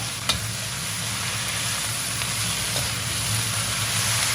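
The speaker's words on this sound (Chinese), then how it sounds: "一定要用大火翻炒，因为大火炒出来的菜既好吃又鲜嫩。" Green vegetables sizzling and being stir-fried in a wok over high heat after garlic, ginger and scallion are fried in oil, a steady crackling hiss with occasional utensil clinks, no voices.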